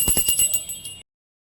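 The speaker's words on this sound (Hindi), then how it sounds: "बहुत ही अच्छी घंटी बजती है" Small brass-like temple hand bell being rung, a rapid series of bright metallic strikes with a shimmering ring that lasts about a second and then stops abruptly into silence.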